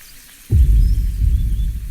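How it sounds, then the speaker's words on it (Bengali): Fish poured into a hot wok of oil sets off a sudden loud sizzle that begins after a short quiet moment and keeps crackling steadily nearby. "লে লে কড়াই মাছগুলো ঢেলে দে লে"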